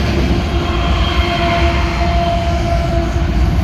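A massive loaded CSX coal train led by a freshly rebuilt SD70 rolls past, with a DPU locomotive in the consist: a loud, steady, close rumble of wheels and cars with faint squeal, no voices.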